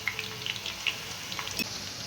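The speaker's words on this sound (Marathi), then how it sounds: "व्यवस्थित आपण चिप्स तळून घ्यायचे" Raw banana wafers frying in hot oil over a medium flame, a steady close sizzle with scattered bright pops and crackles, no talk.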